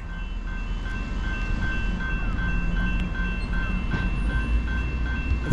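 A steady low rumble of a passing Norfolk Southern freight train in South Plainfield, New Jersey, with rail clatter and faint squeals, continuous and moderately distant throughout.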